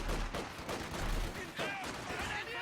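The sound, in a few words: machine gun fire in video game Company of Heroes 2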